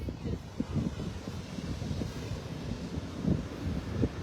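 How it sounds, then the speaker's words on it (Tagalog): Strong wind buffets the microphone in gusty low rumbles and thumps, fairly loud and unsteady throughout, with a voice faintly present underneath. "Lakas kasi ng hangin dito eh."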